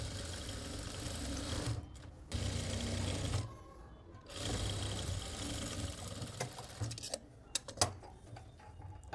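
An industrial sewing machine stitching the curved edge of a lined suit at a boutique, whirring steadily in long runs with brief pauses and small ticking stops between passes.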